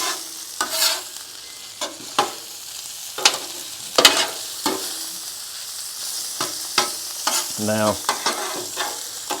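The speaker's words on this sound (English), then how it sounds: "We'll mix the sausage up. And start cooking it." Sausage sizzles on a Blackstone griddle while a spatula scrapes and stirs it in sharp, irregular strokes over a steady soft frying hiss, and a brief word is spoken.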